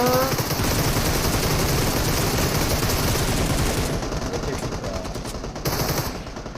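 Sustained rapid automatic gunfire in the mobile battle royale game PUBG Mobile, loud and continuous throughout with a brief shift in tone near the end.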